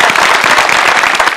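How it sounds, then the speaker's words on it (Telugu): Loud, close applause from a crowd at a TV show, dense rapid clapping throughout a short burst. "గట్టిగా క్లాప్ చేశాడు"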